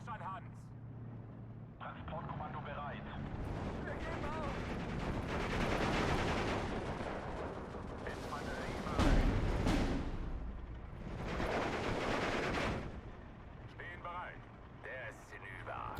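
Artillery barrages and gunfire from the WWII strategy game Steel Division 2: a dense, continuous roar of rumbling impacts and crackling shots, with heavier bursts swelling near the middle and again later, while a voice talks over the battle.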